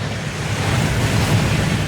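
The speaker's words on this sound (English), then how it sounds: "That waterfall washes away all enchantments." A waterfall in the Hogwarts Legacy video game, a dense, steady rushing roar of falling water with a deep low rumble, constant and loud throughout with no voices.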